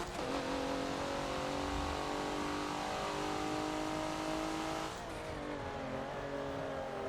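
A race car engine lapping the Hockenheimring in Forza, a steady high-pitched, strained drone climbing through the revs, then dropping abruptly with a gearshift near the end, with no talking over it.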